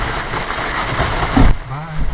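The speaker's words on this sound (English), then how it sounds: "If you can see this, it's just pouring rain." Heavy rain pours down in a steady broadband hiss, with a brief louder thump near the end.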